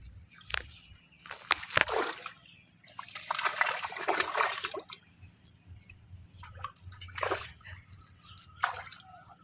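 Rohu fish being pulled from a pond splash in the water in several short bursts of sloshing and dripping, with quieter gaps between them and a low background hum.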